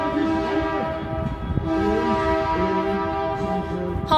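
Horn of the Holland America cruise ship Koningsdam: a loud, sustained multi-tone blast with a layered chord that holds for about four seconds, a lower tone shifting beneath it.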